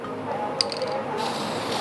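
Short hiss of an airbrush or spray can misting color through a see-through stencil held on a cookie, a faint brief burst over low room noise.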